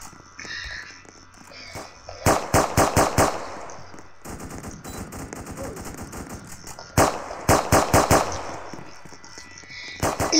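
Rapid bursts of automatic gunfire in a police video game, loud clusters of shots repeating in several volleys over steady background game sound.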